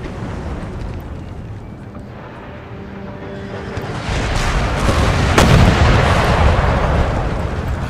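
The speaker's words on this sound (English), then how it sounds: "All I can do is keep my gunners firing." Artillery fire in the video game Empire Total War, a dense rumbling roar of battle that grows louder halfway through, with a sharp crack standing out above the sustained booming din.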